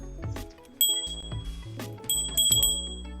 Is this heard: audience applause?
no